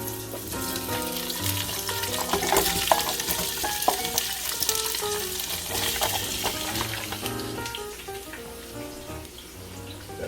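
Red onions sizzle loudly in a hot pan on a BBQ grill, a dense continuous frying hiss with scraping and clinking as they are stirred, close up with no talking.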